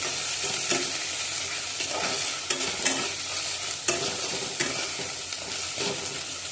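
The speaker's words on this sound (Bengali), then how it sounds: "আদা রসুন বাটাটা দিয়ে দিলাম, দিয়ে আর একটু ভালো করে ভেজে নেব।" Ginger-garlic paste frying in a pan, a steady dense sizzle with a spatula scraping and stirring through it in repeated strokes, close up and with no voices.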